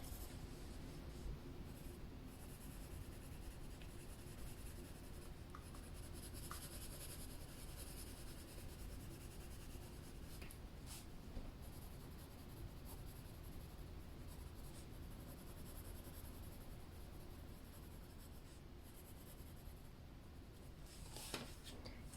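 Colored pencil in light peach blending over paper with medium pressure, a soft, steady scratchy rubbing that continues close up and fairly quiet for the whole stretch, with no talking.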